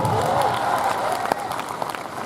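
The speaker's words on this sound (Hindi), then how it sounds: "जहां जहां बैठो एक बार तालियां बजा के बताओ" An audience at a college alumni-meet comedy show claps steadily and fairly loudly for about two seconds, with a voice faintly audible through the applause.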